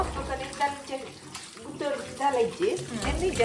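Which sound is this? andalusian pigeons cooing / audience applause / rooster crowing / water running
water running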